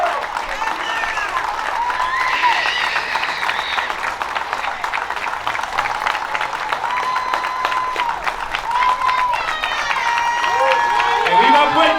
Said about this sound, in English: Keep that applause going. Let's let City Hall hear you applaud,